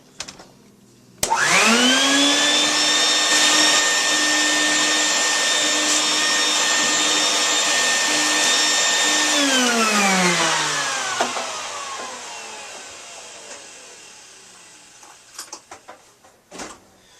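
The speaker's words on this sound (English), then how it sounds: "Okay, so we've got that pretty much vacuumed out in there." A vacuum cleaner pulling dust out of a desktop computer's cooling system and fan starts abruptly with a loud, steady whine. It holds that level for several seconds, then winds down slowly and trails off to a few faint clicks.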